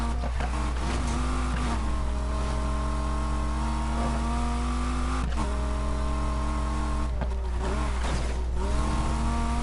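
A car engine in the Need for Speed Heat racing game roars loud and constant, with several rising revs and shifts over a deep steady drone.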